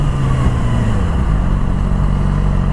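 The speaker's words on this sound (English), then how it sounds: "Try this engine brake" Yamaha R6 sport motorcycle engine braking, a loud, close, steady low mechanical drone with a continuous engine note and no talk over it.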